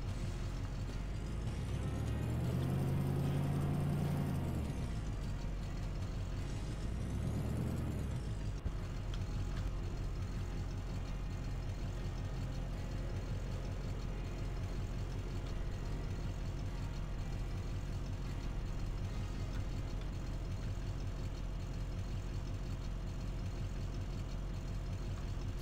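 A truck engine with a trailer in Farming Simulator 2015 revs up and down twice, then settles into a steady low idling drone that runs on alone.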